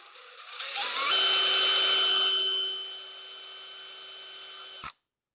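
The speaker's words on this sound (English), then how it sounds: "See if I can drill this without it sliding around on me." A power drill with a dull bit whines at high speed, rising quickly and then holding a steady buzzing pitch for several seconds before it stops abruptly.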